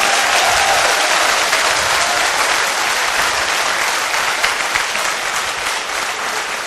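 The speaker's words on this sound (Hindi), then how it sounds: "तालियां बजानी है तो तसल्ली से बजा दो" Loud, sustained applause from a large seminar audience, a continuous wash of many hands clapping that stays steady and slowly eases toward the end, with no speech over it.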